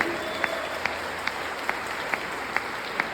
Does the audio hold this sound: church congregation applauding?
yes